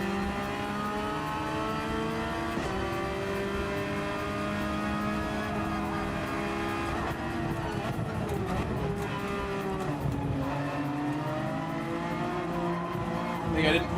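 Racing cars in a racing video game, including a fast Genesis, with layered engine tones rising and falling as they accelerate and shift, continuous and fairly loud throughout.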